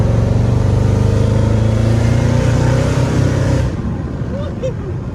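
Mercedes E55 AMG V8 engine pulling hard at half throttle, a loud close harmonic roar with steady rising tones that cut off suddenly near the end, leaving quieter road and cabin noise.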